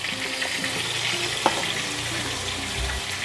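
Pumpkin and potato pieces sizzle steadily in a pan while being stirred, with a brief scrape of the spoon partway through and a constant close frying hiss with no talking.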